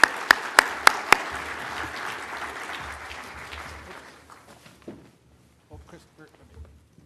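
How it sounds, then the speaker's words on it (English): An audience at a conference gives a round of applause for a panel. Steady clapping with a few sharp close claps fades out after about four seconds, and then voices talk quietly. "a big round of applause for the panel"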